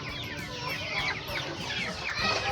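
A chicken clucks in soft, irregular bursts while being held for a wing web fowlpox vaccination, close by, with some scratchy rustling and faint background noise in between.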